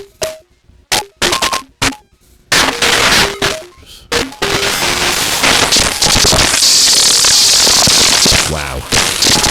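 Ana software synthesizer self-modulating under a lengthening envelope: sparse sharp crackling bursts and pitched blips give way to a dense, loud, continuous noisy crackle and roar, ending in a brief swept tone, with no voice.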